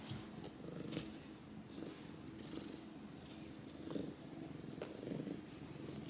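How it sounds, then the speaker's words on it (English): A tabby tuxedo cat purrs close up in a soft, steady, rumbling cycle. The purr rises and falls gently with each breath. "She's purring so loudly."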